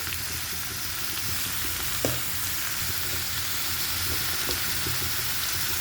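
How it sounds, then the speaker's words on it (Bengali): Bottle gourd frying with green chilies and salt gives a steady, loud, close sizzle throughout, with occasional soft clacks of stirring cutting through and no voices. "এখন নেড়ে চেড়ে মিক্সচার করে দেব।"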